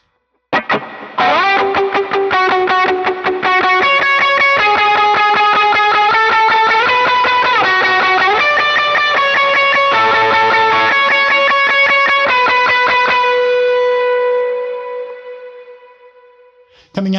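Electric guitar lead lick with effects, an ascending run of bright sustained notes with echo and chorus shimmer, loud and close, ringing out and fading at the end.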